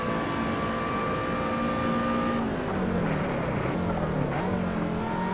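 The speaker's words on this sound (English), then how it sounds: "It's a high revving motor, but it's not that high revving." A race car engine in Assetto Corsa revs high and steady, then drops in pitch through a downshift before climbing again, loud and continuous with no talk.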